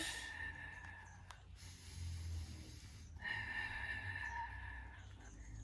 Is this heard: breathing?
yes